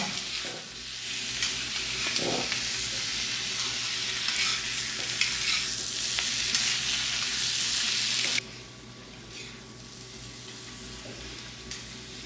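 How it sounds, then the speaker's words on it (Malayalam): Spicy masala sautéing in a pan for soya chunk curry, a loud continuous sizzle with stirring scrapes throughout, dropping to a quieter simmer near the end, no talk. "ഞാൻ അതൊന്ന് നന്നാക്കി വഴറ്റി കൊടുക്കാം"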